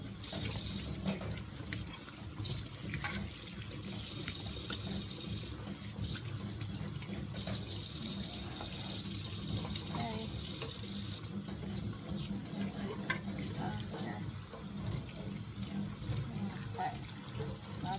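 Celery rinsed under a running kitchen tap, a steady close rush of water that continues throughout with small splashes, and a voice speaking faintly beneath it.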